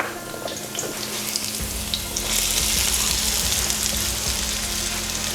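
Spam is added to a pan of browned garlic, and a steady broad frying hiss swells louder partway through and holds, close and continuous, with no voices.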